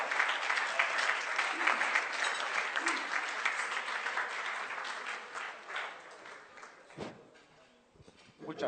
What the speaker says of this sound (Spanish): Yo les pido un fuerte aplauso para don Armando Fuentes Aguirre Catón.